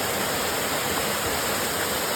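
A waterfall on the Camino Primitivo, full of water, gives a steady, dense rushing roar that stays loud and unchanging throughout.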